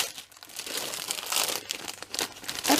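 Paper crinkles and rustles up close as it is handled, with irregular crisp bursts of crumpling and no talking.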